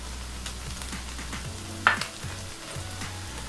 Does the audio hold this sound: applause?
no